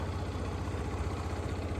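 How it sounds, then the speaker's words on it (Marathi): A tractor engine runs at a steady, close, loud idle, with a continuous low rumble and vibration and no breaks. "ट्रॅक्टर आता चाललं"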